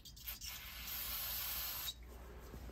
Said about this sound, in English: I'm just gonna clean this off with a little brake cleaner